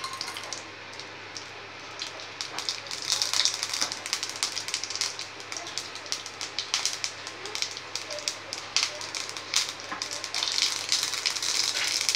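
Urad dal sizzling in hot sesame oil for ridge gourd chutney, a steady crackling hiss with sharp spitting pops that grow denser and louder as it fries, close by with no talking.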